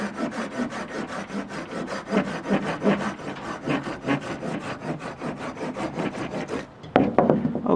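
Close, rhythmic strokes of a Silky Pocket Boy 130 folding hand saw rasping steadily through wood, fast and even, then a brief pause before a few final heavier strokes as the cut nears its end.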